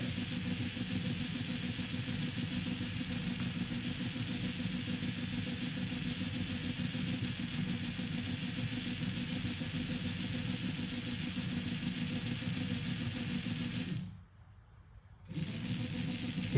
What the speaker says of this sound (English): After uploading, now motor is rotating in the anti-clockwise direction